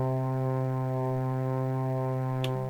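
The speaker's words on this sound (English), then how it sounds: "I've chosen the first sound that appears here, and it's the Hidden Tears preset" Elektron Digitone 2 synthesizer playing the Hidden Tears lead preset, a sustained steady harmonic tone held alone with a small pitch shift and a brief click near the end.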